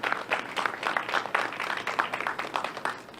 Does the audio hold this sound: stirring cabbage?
no